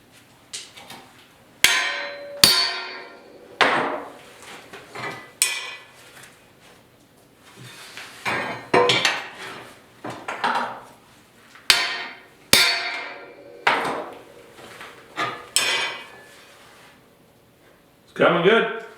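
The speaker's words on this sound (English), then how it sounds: "So you just put it in your vise, hit it with a hammer." Hammer blows strike a welded metal piece clamped in a vise, about a dozen sharp ringing hits in irregular bursts with short pauses between, close and loud.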